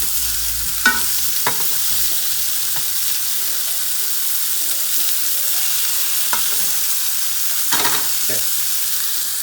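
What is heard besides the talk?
burgers frying and sizzling in a pan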